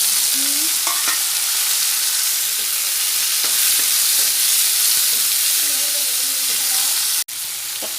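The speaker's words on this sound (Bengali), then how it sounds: "টমেটোটা ভাজা হয়ে গেছে" Tomatoes fry in a pan of cooked onions, giving a loud, continuous sizzle and hiss with occasional scraping stir strokes, close up and without talking, ending in a sudden brief clunk.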